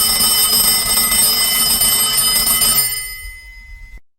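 A telephone rings with a steady bright electronic trill for about three seconds, then cuts off into silence, as a call is placed to an airport transport information desk.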